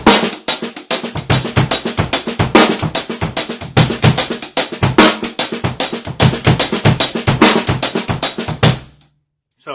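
A drum kit plays a shuffle in a three-count feel, with bright, busy cymbal strokes and punchy snare and kick hits cycling steadily before stopping abruptly near the end.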